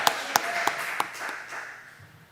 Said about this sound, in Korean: 박수 치려면 확실하게 치셔야 돼요